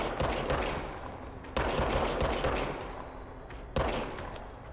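The service weapon in Control fires in repeated loud gunshot volleys, with three sharp bursts each trailing off into echoing decay, close and without talk.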